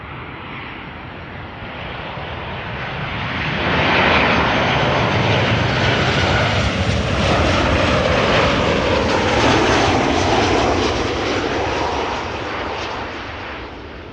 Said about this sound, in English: This Boeing 737-800 is 3 years old, had its first flight in December